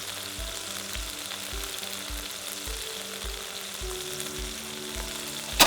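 Salmon fillets sear and sizzle steadily in a hot pan, a continuous bright frying hiss with faint low rhythmic thumps underneath and a brief louder clatter at the very end.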